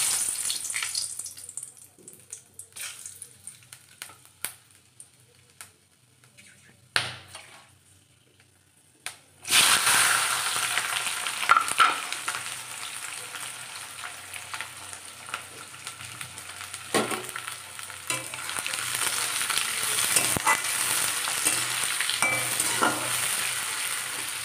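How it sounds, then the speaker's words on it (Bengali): Onions fry in a pan. After a quiet stretch of faint clicks and clatters, a loud, dense sizzle breaks out and holds steady with occasional stirring scrapes. "পেঁয়াজটা ভাজা হয়ে গেল"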